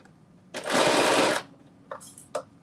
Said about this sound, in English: So that's why you hear this kind of start-stop when it comes to sewing.